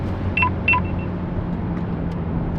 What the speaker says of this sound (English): The thing doesn't stop beeping all the time